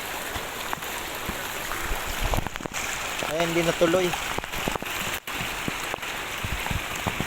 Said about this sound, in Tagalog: malakas na naman yung ulan